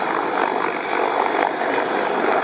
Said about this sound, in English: This is a typical maneuver performed by combat helicopter pilots to get in and out of critical situations.